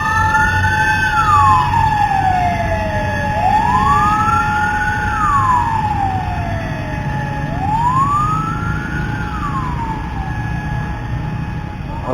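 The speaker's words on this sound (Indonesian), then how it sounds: "Lagi ada pemadam kebakaran." A fire truck siren wails in long, repeating rising-and-falling sweeps, loud and close, over a low rumble of engine and road noise.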